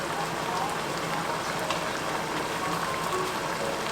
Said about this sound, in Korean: 보글보글.